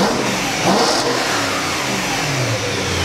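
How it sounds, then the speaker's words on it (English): A BMW M3 engine, in a car being rebuilt after a wreck, revs hard in one continuous loud, close burst that swells briefly and holds steady throughout. "I hope you guys enjoyed that little rev."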